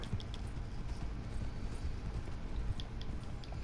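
Horse hooves clip-clopping in the Red Dead video game, a quiet, steady rhythmic trot of a large horse heard faintly over a low rumbling background, with no talking.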